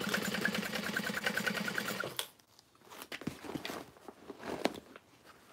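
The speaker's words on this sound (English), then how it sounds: "I just set my foot next to that and sew all the way around the top." Sewing machine stitching around the top of a tote bag's lining, a steady rapid mechanical whir for about two seconds that stops abruptly, followed by quieter handling clicks and rustles.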